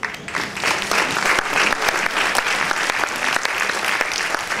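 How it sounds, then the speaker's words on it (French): An audience at the Miss Lorraine 2011 beauty pageant election gives a steady round of applause, with dense, sustained clapping from many hands filling the hall. "qu'on peut applaudir"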